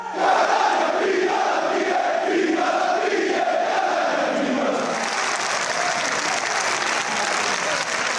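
About 1,500 Catania football fans fill the main stand at the Massimino stadium for an open training session, their loud sustained applause and crowd roar continuing steadily throughout.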